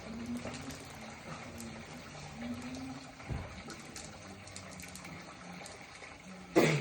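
Muddy coolant gushes and splatters out of a locked-up 1998 Mustang GT engine during teardown, a faint, continuous watery pour with a louder splash at the end.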